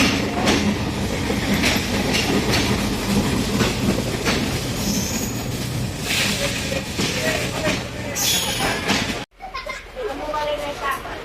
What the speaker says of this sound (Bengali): ট্রেন চলে আসছে চাপাই থেকে